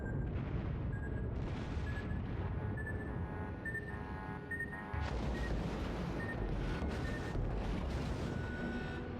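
Torpedoes strike a ship in the naval video game World of Warships, with deep booming explosions and rumbling impacts under a continuous game soundscape, heavier bursts arriving in the second half.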